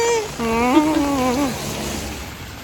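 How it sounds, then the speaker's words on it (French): Steady rain hiss in Japan fills the clip from start to finish, with a voice speaking briefly over it near the start. "Il pleut."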